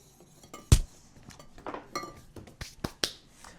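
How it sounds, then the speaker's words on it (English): A whisk stirring salt into a Brazilian cheese bread mixture in a bowl, giving scattered light clinks and taps of metal against the bowl, one sharp tap standing out, close and fairly quiet, with no talking. "now we got our whisk. We just whisk to combine it."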